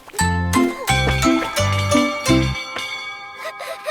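Bells ring within a children's nursery rhyme song about farm animals, a series of bright tinkling chimes layered over rhythmic, low musical notes, loud and close.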